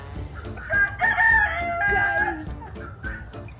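Rooster crowing with chickens clucking at a mini farm, the crow rising clearly over excited nearby voices and ambient outdoor noise.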